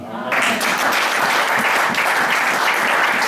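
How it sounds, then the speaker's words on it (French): Congregation applauding in church during a sermon, a dense, steady wash of clapping that starts abruptly and holds loud and continuous throughout, with faint voices mixed in beneath. "Je crois que vous allez acclamer."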